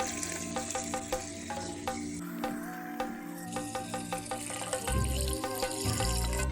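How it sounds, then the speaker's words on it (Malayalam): Boiled and cooled water is poured into a glass bowl while making papaya pickle, a steady trickling splash with small clinks, close and fairly quiet, no talking. "ഇനി ഇതിലോട്ട് തിളപ്പിച്ച് ആറിയ വെള്ളം ഒഴിച്ചു കൊടുക്കാം."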